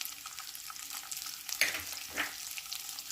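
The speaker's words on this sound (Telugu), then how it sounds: "వీటితో పాటే స్వీట్ కార్న్, ఉల్లిపాయ ముక్కలు, పచ్చిమిరపకాయ ముక్కలు," Sweet corn, onion, green chilli and carrot fry in a pan with a soft, steady sizzle, broken by a couple of brief stirring scrapes, quiet and close, with no talk.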